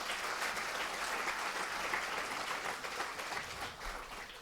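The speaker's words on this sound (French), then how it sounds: "Je pense qu'on peut applaudir Christophe et sa présentation." An audience applauding a business presentation, a dense, continuous wash of many hands clapping at moderate distance, steady throughout and tapering slightly at the end.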